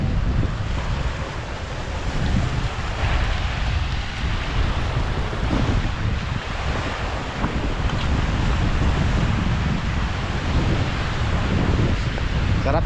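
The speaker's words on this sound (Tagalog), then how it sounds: "napakalakas yung mga alon at hindi talaga kaya natin" Strong sea waves surge and crash continuously close by, a dense, loud roar mixed with buffeting wind noise on the microphone, with no break throughout.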